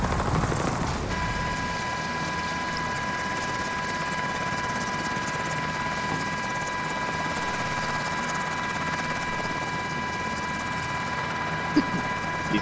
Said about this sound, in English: Hey, why is everybody on a helicopter?